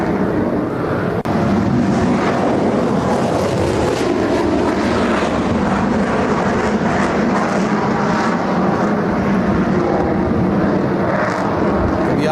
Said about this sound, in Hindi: आप जो रनवे पर देख रहे हैं टेक ऑफ करते यही राफेल विमान है।